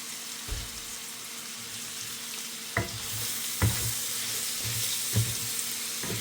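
Beef, potatoes and peppers sizzle steadily in a pan, with a few sharp clinks or scrapes of stirring standing out near and fairly loud over the constant frying hiss.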